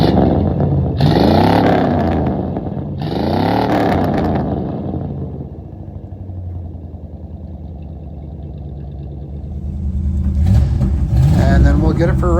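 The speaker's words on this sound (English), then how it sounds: "We'll give you a little listen here to the exhaust." A 1954 Oldsmobile Series 88 two-door sedan hot rod rumbles loudly through its exhaust, rising in two strong revs and then settling to a steady idle before climbing again, with a voice talking over it at times.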